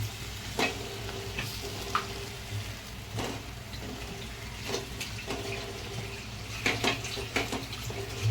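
Masala sizzling in oil in a pan for a Konkani Karli fish curry, a steady frying hiss broken by periodic scrapes and stirring strokes, close and with no voices.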